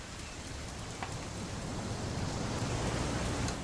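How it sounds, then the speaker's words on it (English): Steady rain in What Remains of Edith Finch falls as a dense, even hiss of drops on surfaces, growing slightly heavier over a few seconds with no voices. "It's gonna rain the whole weekend,"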